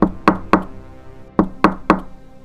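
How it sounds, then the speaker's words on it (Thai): A hand-held stick knocks on a wall inside a room. Six sharp, close raps come in two quick groups of three, each ringing briefly, with no voices. "พลางเอาไม้ที่ถืออยู่เคาะผนังดังก๊อกก๊อกก๊อกก๊อก"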